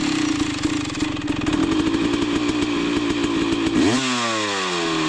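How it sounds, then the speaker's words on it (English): A KTM dirt bike engine runs on a fresh spark plug, a loud buzzing two-stroke drone that holds steady, then revs up and drops in pitch near the end, recorded close. "Was able to just ride it on a fresh plug, and it seemed to run fine."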